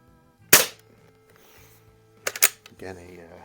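A Tech Force TF-79 .22 CO2 target rifle being test-fired after repair gives one sharp, close crack, then later two quick snaps in succession, with a brief voice at the end.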